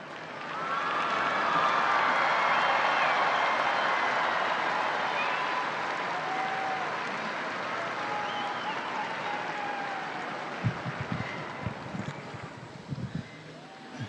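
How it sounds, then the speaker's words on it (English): A large outdoor crowd at the Vatican applauds to welcome Pope Francis, a broad, distant, continuous wash of clapping with wind noise, tapering off into a few scattered bumps near the end. "He appears in the crowd, applauding,"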